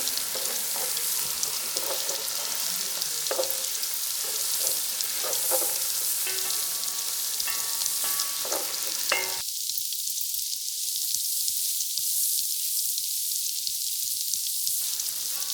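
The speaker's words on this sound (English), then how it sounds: "And just mix this and let it cook for about 30 seconds to 1 minute." Green and red bell peppers frying in a pan sizzle steadily while a utensil scrapes and clacks through repeated stirring; partway through, the low end drops away and only a thinner hiss remains.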